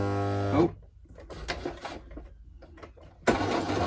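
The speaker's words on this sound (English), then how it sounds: "to back stitch it" A sewing machine back-stitches a seam on a handmade teddy bear, short bursts of mechanical whirring and clicking needle strokes between pauses, close and moderately loud with no talk.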